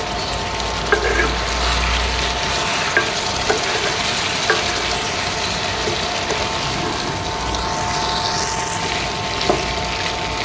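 Chicken pieces sizzle in a pan as their marinade is poured in, a steady loud frying hiss with a few light clinks of utensils scattered through it, no voices.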